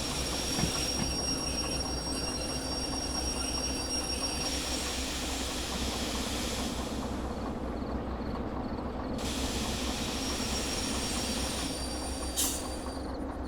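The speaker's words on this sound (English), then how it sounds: "And I will start applying brake." Train wheels squeal steadily as a locomotive brakes in the train-driving game Derail Valley, a continuous loud metallic whine over deep rail rumble lasting throughout, with no talking.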